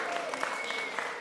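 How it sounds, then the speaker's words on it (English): Congregation in a church applauding warmly, a steady wash of many hands clapping at moderate volume throughout, no voice rising above it. "I'm aware that all of that applause is for Karen"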